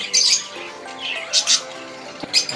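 Lovebirds give sharp, shrill squawks and chirps in irregular bursts at close range, with quieter chatter between calls.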